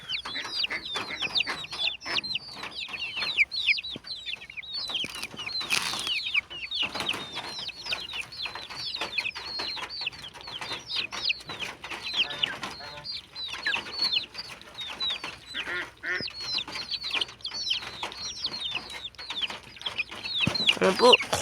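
Chickens and a rooster cluck busily on a farmyard, a dense run of short, overlapping calls and squawks, some near and some farther off, with a brief crowing-like burst midway and no clear talking.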